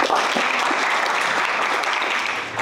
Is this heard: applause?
yes